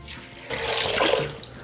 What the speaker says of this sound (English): We're gonna cover it with water again.